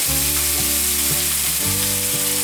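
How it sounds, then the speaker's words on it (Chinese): Cabbage with red bell pepper is stir-fried in a pan and sizzles loudly and continuously from start to end, with occasional spatula scrapes and stirs. No voices are heard. "高丽菜炒至稍微变软之后，可以来调味了。"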